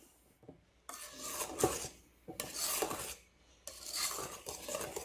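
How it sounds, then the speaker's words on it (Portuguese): Batter for a homemade cinnamon cake being stirred with a wire whisk as flour is added bit by bit, giving raspy scraping bursts against the bowl that come in three stretches with short pauses between. "E vou acrescentando a farinha agora aos poucos. E mexendo com o nosso fouet."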